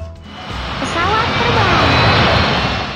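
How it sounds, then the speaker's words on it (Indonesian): Cartoon airplane in a kids' educational transport game, a steady jet-like roar swelling over about three seconds with a rising whine on top, loud and continuous. "Pesawat"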